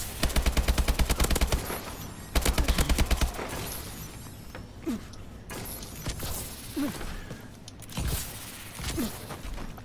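AK-47 assault rifle in Call of Duty on PS4, fired in two loud rapid full-auto bursts near the start, followed by scattered quieter game noises, distant shots and footsteps.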